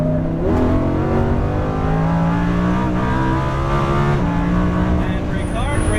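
A Lamborghini Huracan on the Exotics Racing LA track, its engine loud and close, revving and pulling hard with a rising, steady tonal roar under an instructor's talking.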